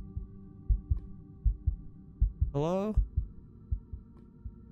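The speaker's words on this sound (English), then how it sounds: "Why is my heart beating?" Repeated low thumping heartbeat in a Minecraft Lights Out horror map, a steady pulse throughout with a brief rising voiced tone near the middle; someone speaks briefly over it.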